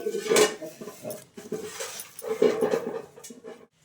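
A metal wok (kadai) clanks onto a stove with a couple of sharp close knocks and rattles, followed by lighter scraping and clinks, moderately loud with no talk.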